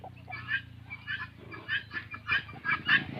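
Large chickens, Shamo and Asil gamefowl, cluck repeatedly in a yard, a string of short, fairly close clucks in an uneven rhythm over a low steady background hum.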